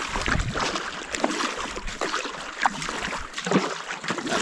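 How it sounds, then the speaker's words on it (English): Boat paddled beneath a massive fallen log in a forest stream: continuous splashing and dripping water with paddle strokes, close and fairly loud, with a few brief knocks along the way. "Just paddling underneath it right now."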